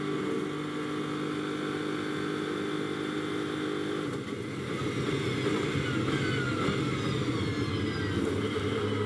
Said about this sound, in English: It's as if there's little sort of gobulets of fuel getting in the exhaust. Just go pop, pop, pop, pop.